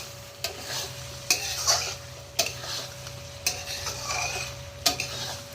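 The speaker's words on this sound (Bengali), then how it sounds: "রান্না করতে দিয়েছি এটা এখন অনেকক্ষণ ধরে সাতলানো হবে" Mutton being stirred and sautéed in a bronze wok, with a steady sizzle and sharp, repeated scrapes of the spatula against the metal every second or so, close and clear with no talk.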